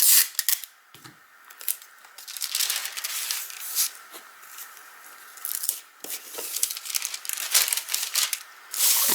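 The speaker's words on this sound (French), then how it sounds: "Hop, je prends mon scotch." Crinkling and rustling of wrapping paper with sticky tape being pulled and torn, intermittent close handling sounds with brief quiet gaps.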